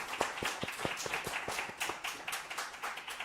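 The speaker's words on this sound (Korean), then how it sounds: "우리 박수로 하나님께 영광 드리겠습니다." Rhythmic clapping from a church congregation, sharp hand claps in a steady beat, several hands together at moderate distance with a slightly irregular tempo.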